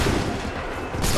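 Musket volley from a line of soldiers in Assassin's Creed 3, a loud, heavy burst of massed gunfire that rolls on briefly and then swells again with a second crack at the end.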